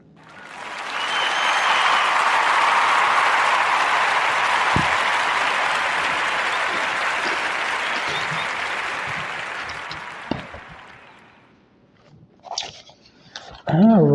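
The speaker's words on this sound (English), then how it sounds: "give a warm round of applause for the Whittier Cafe" Audience applause swells quickly into a dense, loud wash of clapping that holds for about ten seconds, then fades away, and a voice starts talking at the end.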